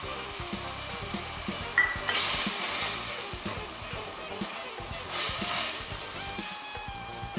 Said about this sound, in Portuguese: Esse é refogado aqui sem sal.